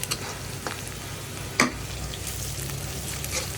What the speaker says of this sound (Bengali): তো এখানে তেলের মধ্যে পেঁয়াজ ভেজে কিছু চিংড়ি মাছ দিয়ে দিলাম